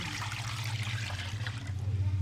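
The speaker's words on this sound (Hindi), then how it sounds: "ये मैंने पानी डाल दिया।" Water pours steadily into a cooking pot for a kaleji masala liver curry, a continuous rushing splash at close range with no pauses.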